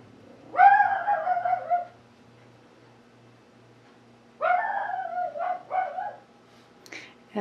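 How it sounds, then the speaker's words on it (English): Small dog barking and howling at the moon, two drawn-out yowling barks separated by a few seconds of quiet, fairly close and clear against a faint background hum. "And that is my little Cisco barking at the moon."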